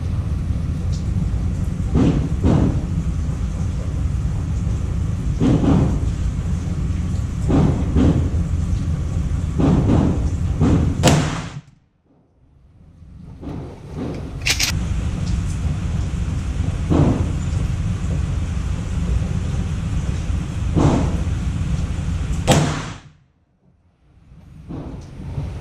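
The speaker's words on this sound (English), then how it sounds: "KO Slugs. These should shoot pretty accurately." Brenneke KO shotgun slugs fired at a range: a few loud, sharp blasts with short ringing decay, spaced apart over steady outdoor background noise.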